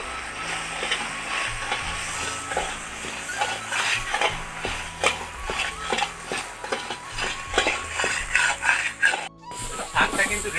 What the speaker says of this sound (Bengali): আমি এবার এটাকে কষতে থাকবো এবং জলটা যাতে পুরোটা শুকিয়ে যায় সেই চেষ্টাটা করবো